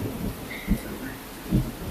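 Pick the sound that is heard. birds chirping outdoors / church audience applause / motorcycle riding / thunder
thunder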